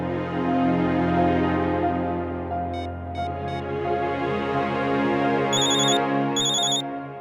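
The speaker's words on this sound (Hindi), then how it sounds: "मन्नू का फोन" A melodic phone ringtone plays continuously, with short bursts of high electronic beeping chiming in twice near the end.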